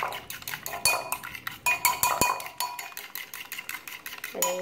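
Eggs with soy sauce beaten in a bowl, a utensil clinking and scraping against the sides in quick, uneven strokes, close up and alone.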